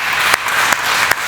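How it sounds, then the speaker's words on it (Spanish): A church congregation gives loud applause, a dense, continuous roar of clapping with a few sharper peaks, close and loud throughout the short stretch, with no voices. "¿Cuánto le dan un fuerte aplauso a nuestro Padre Celestial"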